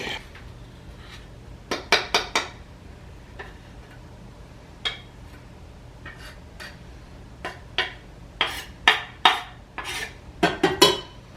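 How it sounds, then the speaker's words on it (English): A lid goes onto a pan where chicken and garlic cook in a shallow layer of oil. Bright metallic clatters come in short clustered bursts over a quiet, steady background hiss. "Lid on there."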